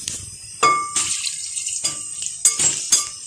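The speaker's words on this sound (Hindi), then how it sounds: "अब हम इसके अंदर थोड़ा थोड़ा पानी शामिल करेंगे" Water poured little by little into a mixed spice blend to make a paste, heard as short splashes and clinks of a vessel, several separate bursts over a few seconds, close and without talk.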